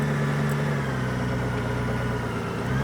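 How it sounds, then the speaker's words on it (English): A motorcycle engine idles high and steady at close range, a continuous even drone with no pauses and no voices over it. "I'm going to let this sit here and just settle down the idle for a second. Because it's idling pretty high"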